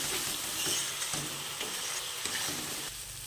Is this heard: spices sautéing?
yes